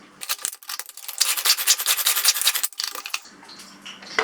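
A knife slices cabbage finely for a kids' salad, giving quick, crisp, scraping cuts in rapid bursts, close and alone with no voices.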